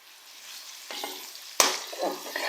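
Ginger garlic paste dropped into frying onions in a pan, a quiet start building to a sudden loud hiss as the paste hits the hot oil, then sizzling with stirring scrapes, close and alone.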